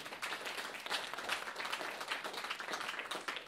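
An audience at a jazz performance applauds, a dense patter of clapping hands at moderate distance, fairly quiet and steady throughout.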